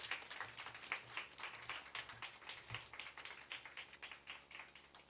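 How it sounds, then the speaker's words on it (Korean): A church congregation applauds the pastor after a prayer, steady rapid clapping from many hands continuing evenly without a break, heard at a moderate distance. "우리 박수 한번"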